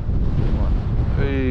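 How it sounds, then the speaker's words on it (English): Wind blows hard along the Sydney coast during land-based fishing, a dense low buffeting roar against the microphone that stays constant and loud, with a voice briefly heard near the end. "Hey, wind."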